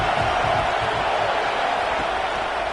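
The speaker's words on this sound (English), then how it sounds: "This crowd bringing the energy and noise early." Crowd roar filling a college football stadium during an NCAA game, a dense steady wall of noise with no distinct cheers standing out.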